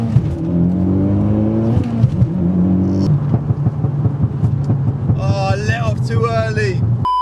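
Mitsubishi Evo X engine pulling hard during a 20 to 70 mph acceleration run, with a rising drone that drops at a gear change and climbs again, heard from inside the car under wind noise and speech.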